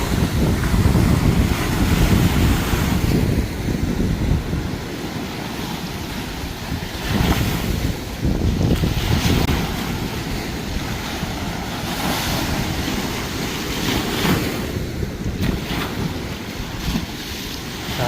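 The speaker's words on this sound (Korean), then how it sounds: "물은 지금 잘, 잘 내려갑니다" Wangpicheon river at evening, water rushing steadily downstream, a loud continuous broadband roar with heavy wind buffeting the microphone throughout.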